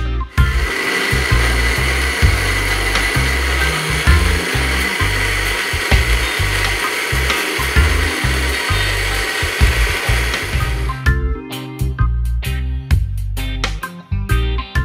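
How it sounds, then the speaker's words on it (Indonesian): A blender at medium speed whirs through honey pineapple and water, a loud steady grinding buzz for about ten seconds before it stops, leaving scattered clicks and knocks of the jar. "Selanjutnya kita blender nanas madu dengan air secukupnya."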